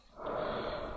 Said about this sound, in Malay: Tarik nafas.